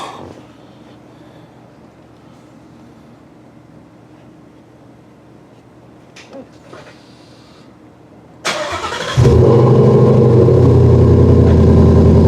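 A car engine cold-starts from inside the cabin, quiet at first, then a sharp crank catches around eight seconds into a loud, steady rumbling idle up close.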